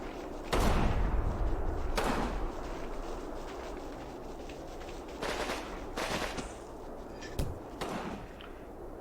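Artillery shells land in the Combat Mission Rome to Victory war game, several sharp booming blasts spaced a second or more apart with some distant rumbling in between, fairly loud against a low background.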